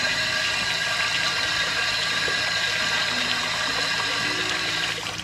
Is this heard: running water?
yes